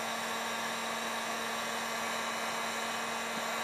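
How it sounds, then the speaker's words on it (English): A heat gun blows a steady, close, unbroken whooshing hiss with a faint hum as it warms a chocolate mould, no voices over it. "just warm it up with the heat gun"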